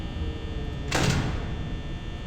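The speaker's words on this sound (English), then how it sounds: "Just keeping that door shut." A security door in the Five Nights at Freddy's video game slams shut: one short, sharp mechanical thud about a second in, set against a steady electrical hum.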